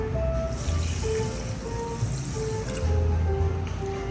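Water pours into a pot for making arroz con gandules, a continuous splashing, gurgling stream close up with a slight swell near the end.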